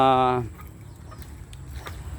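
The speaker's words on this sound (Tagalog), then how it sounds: "ito may mga manok dito na gustong pumasok" A chicken gives a short, loud cluck right at the start near a poultry pen, followed by quieter rustling and faint background noise.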